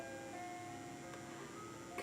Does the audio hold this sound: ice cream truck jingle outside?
yes